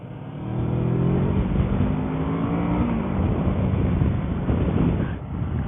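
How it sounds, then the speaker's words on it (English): A 2022 Kawasaki Versys 650 motorcycle engine revs up close, its steady droning note climbing in pitch over wind noise and then settling, with no voices. "I guess it's the engine that sounds like that."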